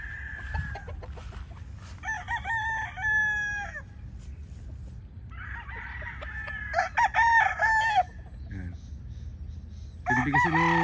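Backyard chickens and roosters after a typhoon, with several loud crows from one or more roosters and clucking in between, close and repeated over a low background murmur.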